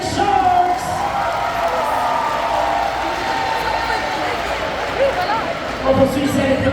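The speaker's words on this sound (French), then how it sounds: "A round of applause et bonne main d'applaudissement pour SO Sharks" A cheerleading competition crowd claps and cheers for a cheer team at an awards announcement, a steady wash of applause mixed with whoops and shouts that swells again near the end.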